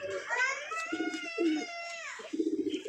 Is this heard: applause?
no